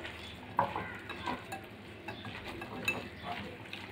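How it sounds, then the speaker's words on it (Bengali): Fresh spinach, soaked with mung dal, is mixed and kneaded by hand in a bowl: soft, wet squelching and rustling with a few sharper touches, close and quiet, with no talk over it. "হাত দিয়ে কিন্তু আরেকটু পালং শাকটা মেখে নিতে হবে।"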